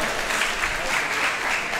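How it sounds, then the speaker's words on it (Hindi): Loud, dense applause from a seminar audience honoring a prize winner, a steady wash of clapping filling the hall for a couple of seconds with no voices on top. "सक्षम जैन के लिए जोरदार तालियां हो जाए एक बार।"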